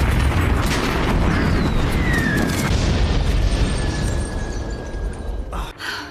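A heavy weapon blast echoes through a scene from the animated film Megamind, a loud booming burst with a long rumbling roll and a faint whistling streak, fading toward the end.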